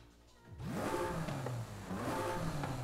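Stock-engined Noble M400 sports car in Forza Horizon 5 snapping from idle into loud revs at about half a second, then dipping and climbing again in two rising pulls.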